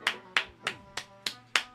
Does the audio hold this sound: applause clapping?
yes